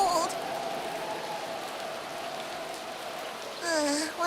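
Steady cartoon rain falls throughout as a continuous hiss in a cold outdoor scene, with brief bits of a voice near the start and end.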